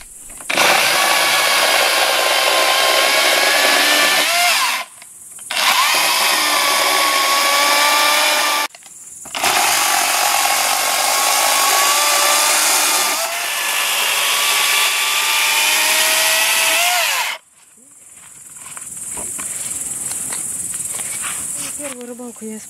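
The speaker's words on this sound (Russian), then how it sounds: "Я использую вот эту вот свою аккумуляторную пилу Redwerk." A Redwerk cordless battery saw cuts in several long sustained bursts with short pauses between them. It runs loud and close, then gives way to quieter background sound near the end.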